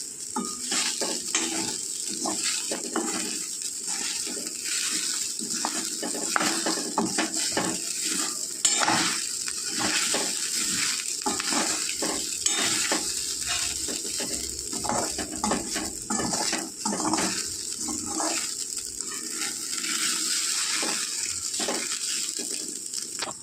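Sago pearls roasting in a pan over low heat, stirred steadily with a utensil that scrapes and clinks against the metal under a soft continuous sizzle, close and fairly quiet.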